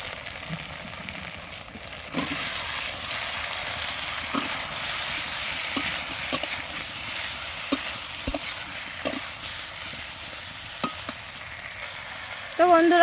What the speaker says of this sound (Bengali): আজকে একটু পেঁয়াজ দিয়ে কষা কষা করবো দেখি